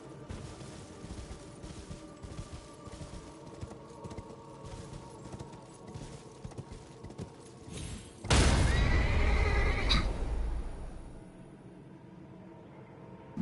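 A horse whinnies loudly and briefly in a fantasy role-playing game, a rising burst standing out over steady in-game ambience and music, then fading back.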